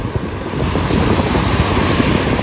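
Ocean waves wash in at a beach in Miami, Florida, a loud continuous roar of surf with heavy wind buffeting the microphone throughout.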